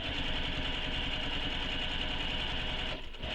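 A sewing machine runs a rapid, even stitch with a short stitch length across a backpack panel, a steady mechanical chatter close by that stops abruptly near the end.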